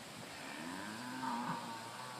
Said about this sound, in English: So we've got some cows here, some local cows.